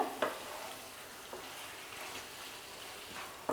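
Lemon pepper chicken with butter is stirred in a hot pan: a soft, steady sizzle with a few scraping strokes from the spoon, close and fairly quiet, with no voices.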